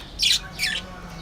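Two sharp, harsh budgerigar squawks come close together, loud and near, followed by quiet.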